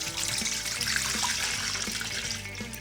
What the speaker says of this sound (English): The first thing we're gonna do is we're gonna put the water in the bowl.